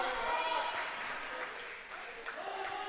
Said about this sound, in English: As we hear the crowd getting into it